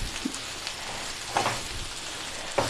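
Mushrooms frying in a pan for an egg omelette, a soft steady sizzle with a few faint crackles and pops, heard up close with no talking.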